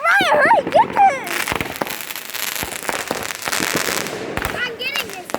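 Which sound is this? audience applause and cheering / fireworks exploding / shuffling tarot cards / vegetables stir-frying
fireworks exploding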